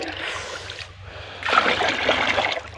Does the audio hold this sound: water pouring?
yes